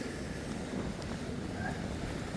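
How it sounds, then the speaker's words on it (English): Wind blowing outdoors on a dog walk, buffeting the microphone with a continuous low rumbling roar and gusty noise throughout, fairly close and steady. "I'm kind of glad that it's a bit windy"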